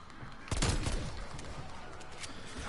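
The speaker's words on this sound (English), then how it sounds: "Ooh, nail gun. This just eats bullets." Nail gun weapon firing in Cold War Zombies, a burst of rapid shots erupting at once and then trailing into a busy background of game sounds.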